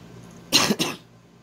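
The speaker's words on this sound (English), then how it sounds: "I'm still coughing, guys." One person coughs twice in quick succession, two close, sharp, harsh bursts against a quiet room.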